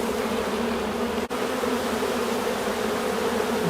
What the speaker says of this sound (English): You can see these bees are beginning to get a bit more excited